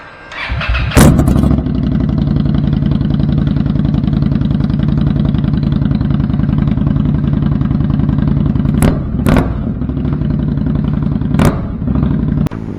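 A 2020 motorcycle fitted with a Vance & Hines Twin Slash Rounds slip-on exhaust fires up after a short crank, then settles into a loud, steady, close-up idle with a few brief blips of the throttle.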